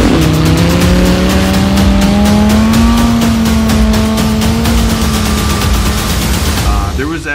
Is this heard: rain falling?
no